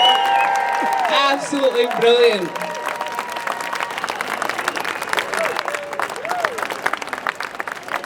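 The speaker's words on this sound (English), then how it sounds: "Can we actually hear a big round of applause for Pensioners for Indy" Rally crowd at a Scottish independence march applauds Pensioners for Indy, sustained clapping and cheering under a voice speaking over a PA, the applause lasting throughout.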